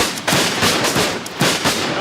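A black-powder battle with musket volleys and cannon fire, heard as repeated heavy booming blasts and crackling shots in quick succession, loud and dense, with no pauses between them.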